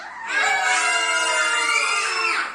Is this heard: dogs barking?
no